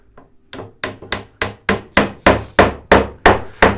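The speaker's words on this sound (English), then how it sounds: "And then let's hammer this down in place." A hammer drives a piece down into wood during a desk build in a workshop, striking about eleven sharp, loud, evenly spaced blows that grow slightly heavier after a faint first tap.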